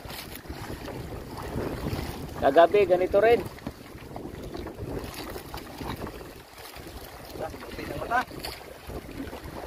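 Wind gusts and boat noise on open sea, with a voice speaking briefly over the steady rush.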